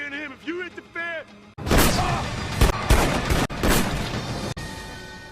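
Rapid gunfire in a shootout scene from the 2010 film Takers: a brief stretch of talk gives way to loud, sustained volleys of shots with a few sharper blasts.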